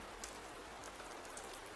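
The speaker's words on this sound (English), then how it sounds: "Only the rain." Steady rain falls outside a bedroom, a soft continuous hiss of drops on surfaces with faint scattered patters, gentle and even throughout with no voices.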